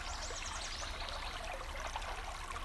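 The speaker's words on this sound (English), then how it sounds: "Just the sound of," Steady, continuous rush of flowing stream water, close and unbroken, with a bright babbling trickle throughout and no voices.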